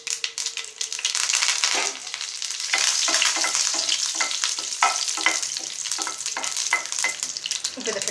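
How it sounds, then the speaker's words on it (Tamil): Mustard seeds sizzling and crackling in hot oil for a Tamil tomato kara chutney tempering, a dense, steady hiss with quick popping bursts throughout, close and fairly loud with no voices. "இப்போ வந்து ஆயில் விட்டு அடுத்து கொஞ்சம் கடுகு போட்டுக்கோங்க"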